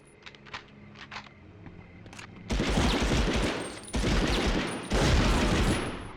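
Bursts of hip-fired gunfire in the video game Medal of Honor, loud sustained volleys that start abruptly partway through after a few faint, softer clicks and taps.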